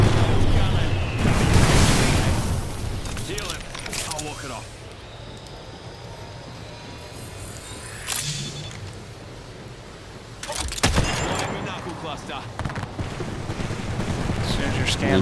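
Gunfire in a shooter video game crackles in loud bursts, one heavy volley at the start and sharper shots around the middle and later, with quieter game ambience between and occasional voices.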